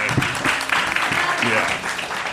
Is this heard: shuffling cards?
no